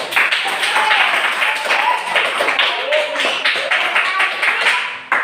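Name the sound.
students applauding in class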